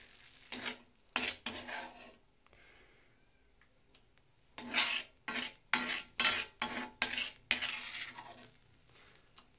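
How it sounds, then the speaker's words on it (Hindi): Metal spoon scraping and clinking against an iron wok as cooked spinach is moved into a bowl, a few quick scrapes, a pause, then a run of regular strokes, close and fairly clear. "मैं इसको एक कटोरी में निकालूंगी"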